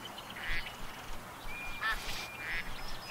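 Ducks quacking in the Duck Dynasty video game, several distinct quacks and honks at moderate level with short pauses between them, set against a faint outdoor ambient bed.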